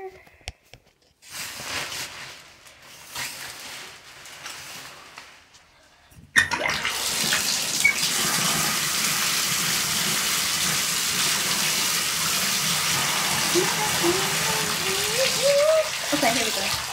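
A faucet suddenly turns on and water gushes steadily into a tub or basin, loud and continuous, after a stretch of quieter rustling and movement.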